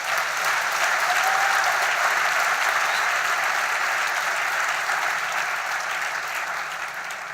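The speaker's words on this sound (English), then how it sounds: "I think they deserve a round of applause." Sustained audience applause at a Nigerian event honouring a CNN Heroes nominee, a dense, even wash of many hands clapping that stays loud throughout and eases slightly toward the end.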